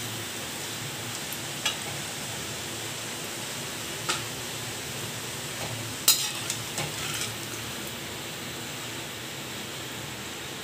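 Thin sev for homemade namkeen fries in hot oil, giving a steady, loud sizzling hiss with a few faint clinks of a utensil stirring, and no talking.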